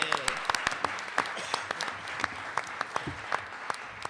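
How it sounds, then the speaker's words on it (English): A small audience at a university social justice awards ceremony gives a sparse round of applause, with distinct individual claps scattered over a soft murmur of voices. "So I would like everyone to join me in a round of applause to just thank those wonderful people."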